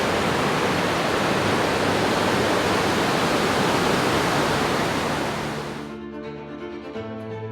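St. Columba Falls in Tasmania, a 90-metre waterfall, roars as a steady, loud broadband rush that fills the scene, then drops away sharply near the end to a quieter background.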